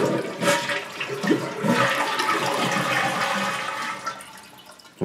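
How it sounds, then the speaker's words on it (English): A Gerber toilet, model 99-788, flushing after the water supply is shut off and the tank lid removed: a close, rushing gurgle of draining water that holds steady for several seconds and then tapers off. "Step three, flush."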